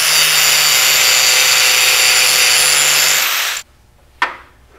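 A power tool cuts down the metal legs of a Toyota suspension part, a loud, steady grinding whine running for over three seconds before cutting off abruptly, followed by one short sharp clank.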